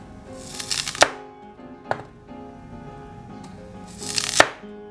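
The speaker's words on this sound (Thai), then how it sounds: "หั่นหัวไชเท้าหนาประมาณ2 เซน" A knife cuts through daikon radish into thick slices on a board: a few distinct, close chops, each a crisp thud with a short crunch, separated by pauses.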